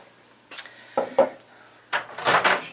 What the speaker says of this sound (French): Tac, micro-ondes.